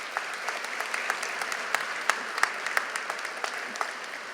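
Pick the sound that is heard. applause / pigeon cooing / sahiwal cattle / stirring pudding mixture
applause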